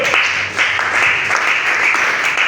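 A church congregation bursts into sustained, dense applause, many hands clapping together loudly and evenly for a couple of seconds, with no speech over it.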